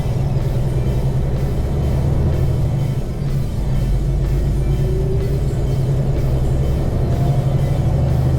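A 2022 Kenworth T680 NextGen truck with no trailer accelerates up an on-ramp, its heavy diesel engine a steady, loud low rumble heard from the cab, with a faint rising whine partway through.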